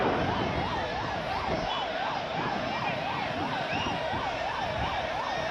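A wailing ambulance siren arriving amid a crowd at a political rally, its rapid rising-and-falling tone repeating steadily and loudly throughout over background crowd noise.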